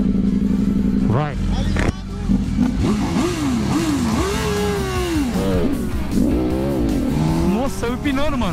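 A BMW S1000RR motorcycle launches in a street race, its engine revving hard and rising through the gears at close range, with other engines and a voice talking over it.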